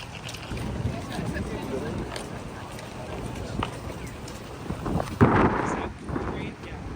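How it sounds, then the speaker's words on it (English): Cold wind buffets the microphone outdoors in Tokyo, a steady rushing roar with gusty surges, mixed with street and traffic noise and a louder gust near the end. "Back out into the windy cold."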